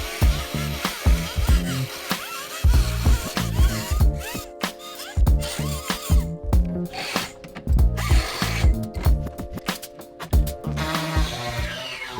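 Plastic tabs being cut off a 2005 Subaru STi dash part with a tool, a series of rhythmic, close mechanical bursts and scraping repeating through the whole stretch with brief pauses.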